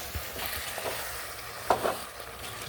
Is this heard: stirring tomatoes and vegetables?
yes